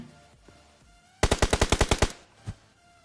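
Automatic gunfire in PUBG, a rapid burst of about nine loud close shots followed by one single shot after a short pause.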